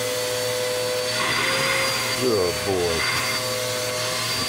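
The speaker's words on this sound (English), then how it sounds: "He normally hates the vacuum, but I think he likes the way this feels, and it gets all the excess hair off him" A vacuum cleaner runs continuously close by as it pulls loose hair off a pug's coat, a steady whining drone with brief shifts in pitch as the nozzle moves. A person speaks briefly over it.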